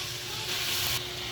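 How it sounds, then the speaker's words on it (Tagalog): Chop suey vegetables stirred in a hot pan, a steady sizzle of frying with soft scraping movement throughout, close and continuous. "haluin lang po natin ang ating chop suey gulay"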